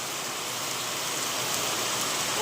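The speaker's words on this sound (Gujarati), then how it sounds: "ની વાત જવા દેવો એટલો વરસાદ પડે" Heavy rain pours steadily on a village farm, a dense, even hiss of downpour that stays constant and fairly close throughout, with no voices.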